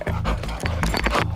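A customs sniffer dog panting close up in quick rhythmic bursts of breath, loud and continuous across the short clip.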